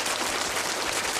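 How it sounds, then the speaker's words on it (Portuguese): Dense, steady applause from an audience at a church gathering, a sustained wash of many hands clapping at once, fairly loud and without voices for a little over a second. "Palmas!"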